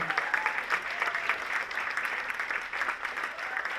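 An audience at an Ignite Talks event at MSU claps for a presenter, a steady wash of applause that holds evenly throughout at moderate distance.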